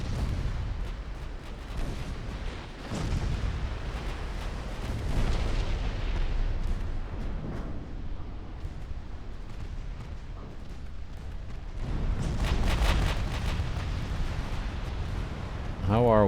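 Heavy naval guns on warships boom in a battle in Ultimate Admiral Dreadnoughts, firing high-explosive shells. Deep, rolling blasts swell and fade across a dense low rumble, with a louder cluster of shots near the end and faint talk beneath.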